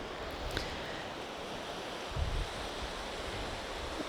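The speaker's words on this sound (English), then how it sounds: "just some nice flat waves" Gentle, flat waves washing onto a beach on a lightly breezy day, a steady soft surf wash with wind noise and a brief swell in the middle.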